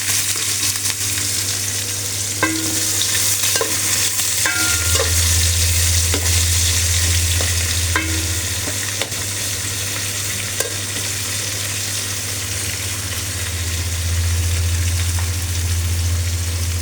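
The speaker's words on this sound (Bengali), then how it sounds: "পেঁয়াজ কুচি দিয়ে দেব।" Chopped onions fry with whole spices in hot oil, giving a loud, continuous sizzle. A spatula scrapes and taps in scattered clicks, and a low steady hum runs underneath throughout. No speech.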